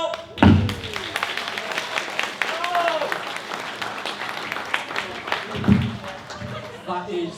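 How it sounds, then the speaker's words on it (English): An audience at a Gloucester Brewery comedy night gives a polite round of applause, a steady patter of clapping with a few thumps and chuckles, while someone speaks over it. "That is the politest round of applause ever"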